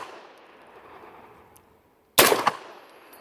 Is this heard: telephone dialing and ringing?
no